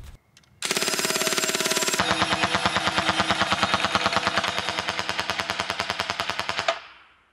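A full-auto CO2 BB gun empties a 60-round magazine in one long, rapid burst of sharp, evenly spaced shots lasting several seconds, loud and close, after a brief quiet start.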